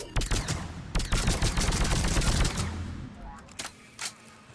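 Rapid bursts of video game gunfire in a Citadel match, loud dense shots in quick succession that thin out into a few isolated cracks.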